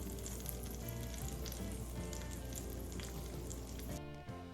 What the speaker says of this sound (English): Just listen to that glorious sizzle